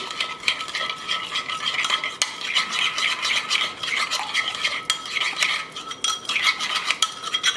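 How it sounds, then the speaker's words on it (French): A spoon stirs a spice mixture through food in a pot, giving repeated scraping and clinking strokes against the metal, close and fairly loud, with no voices. "je vais venir bien mélanger tout ceci"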